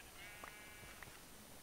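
Sheep in the Minecraft video game bleat faintly a couple of times, short soft calls over a quiet background hiss.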